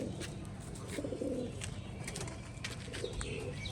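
Domestic pigeons coo steadily in a backyard loft where many young chicks have hatched, with low, rolling calls repeating close by over a soft, constant background rustle.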